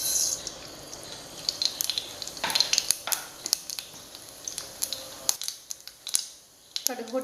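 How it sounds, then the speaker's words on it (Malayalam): Mustard seeds sputter in hot coconut oil for a prawn pickle, with sharp irregular pops and crackles over a soft hiss that thins out and quiets toward the end. "അപ്പോൾ എണ്ണ ചൂടായി കഴിഞ്ഞ് ഞാൻ കടുകിടുകയാണ്"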